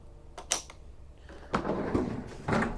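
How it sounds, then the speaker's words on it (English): An RV kitchen drawer slides open with a couple of sharp clicks and a rumbling glide, followed by more sliding and knocking as it moves, close and moderately loud. "You have a nice deep drawer here for storage in there."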